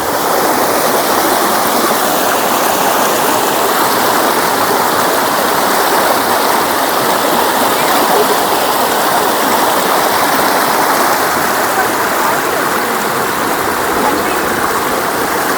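Tada Falls, a waterfall with fresh flowing water, roars in a loud, dense, unbroken rush that stays steady throughout, close by with no other sounds standing out.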